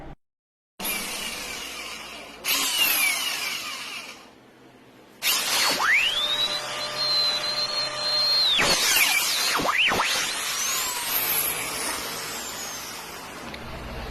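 A power drill bores a hole meant for adding new oil, its motor whining at a steady pitch in several bursts that start and stop, with brief pauses and a spin-down between runs.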